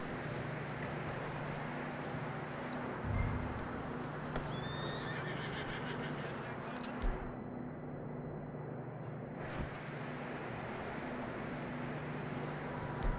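A horse in a video game whinnies and snorts over steady clip-clopping hooves, with a constant low hum underneath and a brief drop to near silence partway through.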